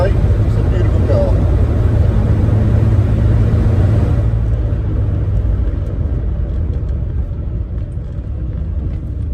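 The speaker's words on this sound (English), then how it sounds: "fantastic smooth, lusty, torquey engine" A 1959 Jaguar XK150 fixed-head coupe's engine runs smoothly while driving, a steady low rumble inside the cabin that grows quieter partway through, with someone talking over it.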